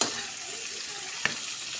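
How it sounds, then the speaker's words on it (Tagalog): Bitter melon frying with onion and garlic in a pan, a steady close sizzle throughout with one brief clack of a utensil against the pan, no talk. "Iprito natin ng malutong sa sibuyas at bawang."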